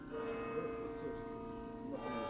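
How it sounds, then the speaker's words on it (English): Church bells ringing out in York, a steady, sustained peal of tones heard at moderate distance with a continuous wash of ringing and no pauses across the short stretch. "Bells rang out"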